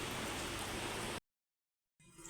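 Steady rain pours down in a dense broadband hiss, then cuts to silence for almost a second before a fainter patter resumes.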